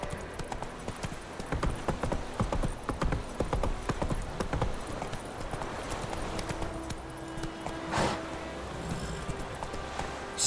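Roach, the horse in The Witcher 3: Wild Hunt, gallops in a quick, rhythmic clip-clop of hooves that is fairly faint and close, with a brief swell near the end.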